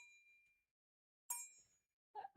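A solid brass mortar and pestle is struck like a singing bell, giving a fading ring followed by two short, bright metallic strikes, faint and close.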